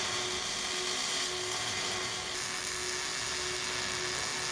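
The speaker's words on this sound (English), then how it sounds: "This is a lot of welding, guys. Full welding inside and out." Welding on coil-over mounts gives off a continuous close crackling buzz with a faint steady tone, holding even and loud throughout with no speech.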